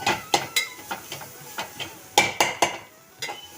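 Food being mashed in a pan while cooking, a string of short scraping and pressing strokes in an uneven rhythm, close and fairly clear, with faint sizzling between them and no talk.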